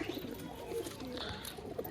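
Quiet, rolling coos from a dealer's caged pigeons, a couple of soft burbling calls drifting through a faint ambient murmur.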